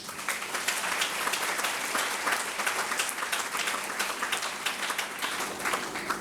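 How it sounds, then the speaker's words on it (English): Sustained audience applause at a conference opening ceremony, a dense, steady wash of many hands clapping that stays loud and even throughout, with no speech over it. "Let's give him a round of applause."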